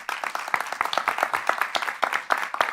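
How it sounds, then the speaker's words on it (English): A live event audience gives a round of applause indoors, dense continuous clapping from many hands, close and fairly loud throughout. "Round of applause, everyone, please."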